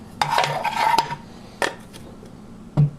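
Ultralight backpacking cookset being handled, a half-liter pot with a small frying pan serving as its lid: a burst of metallic clinks and light scraping, then a few isolated knocks, close and fairly crisp.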